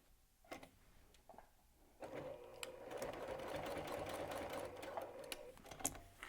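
A sewing machine stitches through bulky layers of a faux leather fringe purse, the steady motor whir running continuously for about four seconds after a few short starts and clicks, close and fairly quiet.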